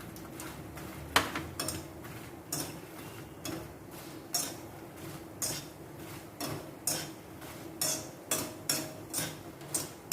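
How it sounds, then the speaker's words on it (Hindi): Makhana (fox nuts) frying in hot ghee in a pan, a spoon clinking and scraping against the metal in a steady, regular rhythm over a faint background hiss. "हम घी हमारा गरम हो गया है, हम मखाने तलेंगे"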